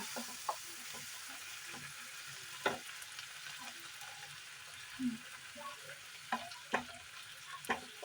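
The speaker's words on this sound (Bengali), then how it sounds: "তো এতটা জল দিলাম, আর একটু দিয়ে দিলাম" Chicken curry sizzles and bubbles in a pan as water is added for gravy, with scattered stirring scrapes and small pops throughout at moderate, close level.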